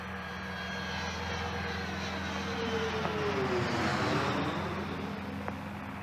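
Space Shuttle Columbia rolling out on runway 33 at the Kennedy Space Center after landing, a steady roar and rumble with a low drone, continuous and moderately loud throughout.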